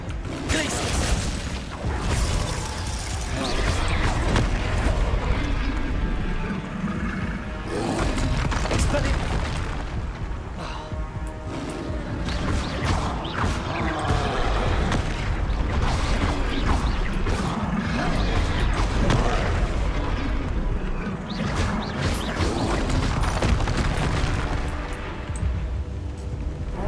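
Boulders crash and thud through a spell-casting fight in Hogwarts Legacy, giving repeated heavy booming impacts and rumbling smashes in a dense, loud game mix that keeps going without a pause.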